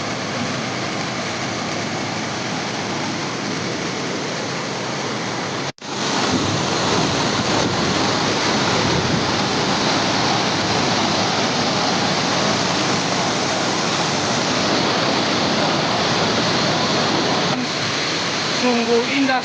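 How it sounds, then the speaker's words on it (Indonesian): Lengah waterfall roars in a constant, dense rush of water, loud and unbroken except for one brief dropout. "kita di atas air terjun ini, kita terjun. Air terjun Lengah memang keren."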